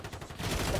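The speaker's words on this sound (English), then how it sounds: "that's why we're shooting at the other guy" Rapid automatic gunfire in Call of Duty Modern Warfare 3 multiplayer, a dense burst of shots that swells louder halfway through and keeps rattling steadily to the end.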